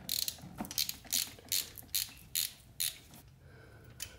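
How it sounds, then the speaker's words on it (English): Close, crisp ratchet clicks in short regular bursts while undoing a 15mm bolt holding an engine dipstick, with pauses between strokes and quiet shop background. "I think it's just held on by this one 15mm bolt. So we're gonna have to undo the dipstick real quick."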